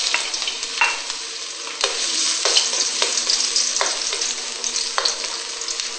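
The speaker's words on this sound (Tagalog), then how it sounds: "Then lagyan natin ng Doña Elena Olive Oil. Then isa natin yung bawang natin." Garlic sautéing in Doña Elena olive oil in a pan: a steady bright sizzle, close by, with intermittent spatula scrapes and stirs spread through, no one speaking.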